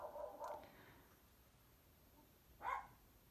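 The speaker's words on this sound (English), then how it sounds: "That's my dog. My dog is also loud." A dog barks twice at a distance, a short pair of yaps, then a pause and one more bark, faint against quiet background.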